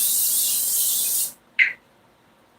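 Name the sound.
cooking oil spray onto pan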